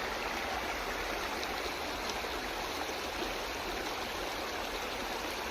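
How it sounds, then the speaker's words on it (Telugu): The Jampanna stream, swollen after rains in the Eturunagaram forest sanctuary, rushes steadily downhill toward the Godavari, a constant, dense close-up roar of flowing water with no voices. "ఇక వాగు చూడండి ఎట్లా వస్తుంది"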